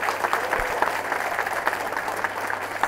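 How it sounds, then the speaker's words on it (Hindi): Young office staff at a startup's town hall in India break into loud, sustained applause, a dense crowd of hands clapping continuously throughout. "और एक बार ज़ोरदार तालियां हो जाए पता लगे कि कितने लोग हैं यहाँ पर"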